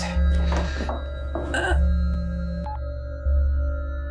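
A telephone rings in bursts of a repeating electronic tone, cut into by short spoken words in a home scene from a Filipino TV drama, with a low steady hum beneath.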